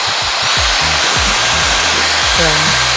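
A Dyson Airwrap hair dryer blows air in a loud, steady, close whoosh, with low rumbling handling bumps under it and no speech.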